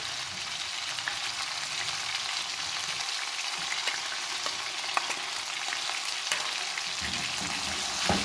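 Ginger and garlic for Afghani chicken karahi sizzle and crackle steadily in hot oil, with occasional stirring clinks close by and no voices.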